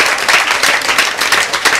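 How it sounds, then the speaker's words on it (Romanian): A quiz-show audience claps loudly and continuously for the winning team, a dense close burst of applause that fills the clip. "Vă rog să le aplaudați"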